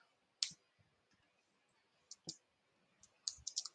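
Sparse, faint clicks of computer keyboard keys being typed in the Vim editor, a few isolated taps followed by a short quick cluster near the end.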